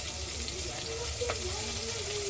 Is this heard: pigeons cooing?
no